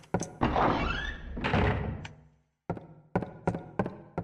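The safe room sound effect from the Silent Hill 1 video game plays as a sustained swelling tone with a sweeping whine, followed by a quick series of hollow, door-like thunks and knocks at close range.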